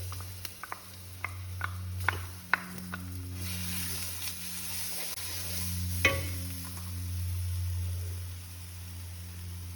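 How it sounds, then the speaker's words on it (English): Beans shallow frying in a pan of oil, a steady sizzle with a few sharp ticks and pops early on, close and fairly quiet, no one talking. "So it sounds like you're going to shallow fry this"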